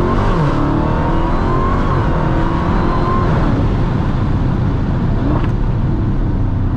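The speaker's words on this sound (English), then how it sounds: "You have the supercharger just screaming up front." A Dodge SuperStock Redeye Widebody with a supercharged engine accelerates hard, heard from inside the car as a loud, continuous roar with a rising supercharger whine climbing through the gears.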